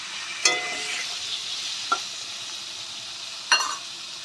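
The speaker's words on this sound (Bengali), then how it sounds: "আলুটা আমরা লাল লাল করে ভেজে নেব।" Salted, turmeric-coated potatoes frying in plenty of oil in a home kitchen, a soft continuous sizzle broken by three sharp spatula clinks, with no talk.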